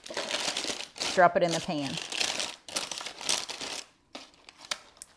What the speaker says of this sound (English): Fold the parchment edges back up.